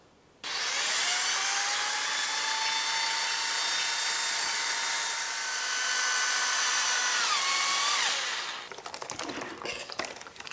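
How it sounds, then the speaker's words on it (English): A power drill with a wine whip attachment stirs wine, whirring steadily and loudly for several seconds, its pitch dipping near the end before it stops, followed by some clattering. "Here we are using Wine Expert's wine whip attached to a drill."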